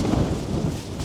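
Blustery wind rumbles against the microphone with a rushing, rain-like hiss throughout, outdoors on Achill Island, Ireland.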